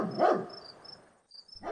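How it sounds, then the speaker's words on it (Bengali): Dogs barking outside at night, a loud burst of barks near the start and another at the end, with crickets chirping faintly in the quiet between. "এমন সময় বাইরের কুকুরগুলো ঘেউ ঘেউ করে ডেকে উঠল।"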